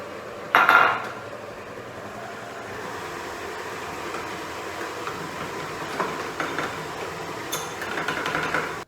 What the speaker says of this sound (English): Next I'm going to add my 2 tablespoons of flour and once again mix until it is all combined.